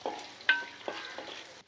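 Tempering spices crackle and sizzle in hot oil for tamarind-leaf pulihora, with a few sharp spitting bursts and soft stirring over a brief, close stretch.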